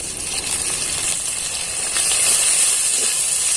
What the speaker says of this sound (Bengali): আর আদা রসুনটা একটু ভেজে ভেজে নেব